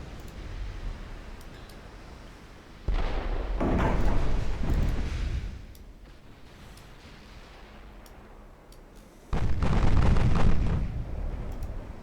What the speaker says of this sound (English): Eight-inch gun doing a little bit of damage there.